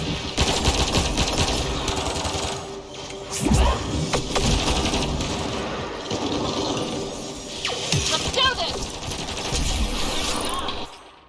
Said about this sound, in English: 佢呢把係 SMG 嚟